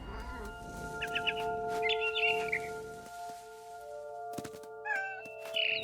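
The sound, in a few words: barn swallow chirping, from the video game What Remains of Edith Finch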